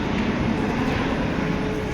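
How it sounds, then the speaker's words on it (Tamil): A large airplane passing overhead near Heathrow Airport, a continuous broad engine roar, loud and steady over the short stretch with no voices. "எவ்வளோ பெரிய ஃப்ளைட்டு."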